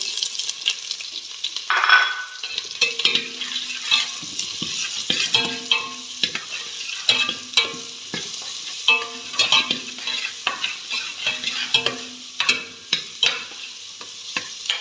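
Onions fry in a little oil with a soft close sizzle, broken by frequent rhythmic scrapes and taps of a utensil stirring the pan, no talk.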